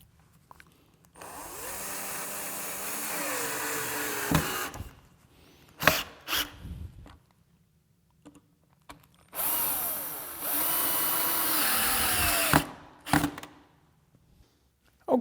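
A power drill drives continuous-thread Spax screws into the back leg of a sculptured wooden child's rocker. There are two long whining bursts, each slowing as the screw seats, with clicks and handling knocks between them.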